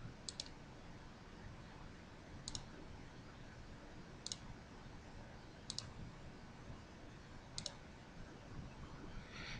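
Computer mouse clicks at a desk, five or six sharp isolated clicks spaced a second or two apart over a low steady background hiss.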